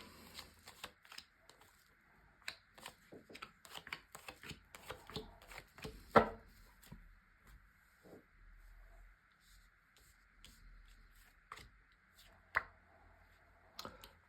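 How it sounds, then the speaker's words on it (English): Tarot cards slapped and slid down one by one onto a table, a scattered series of crisp, close taps and soft swishes with short pauses and quieter gaps between them, no talking. "let's just lay down your 10 cards"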